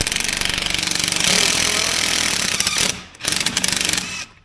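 A DeWalt DWAPVCIR cordless PVC cutter drives its blade through 1-inch schedule 40 PVC pipe in cold weather with a loud, rapid mechanical chatter. The chatter drops out briefly near the end, then starts again and stops.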